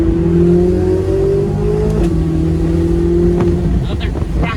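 A Corvette Z06 V8 with the roof down accelerates hard and loud from inside the cabin, its engine note rising steadily with a brief shift before climbing again under heavy wind rush.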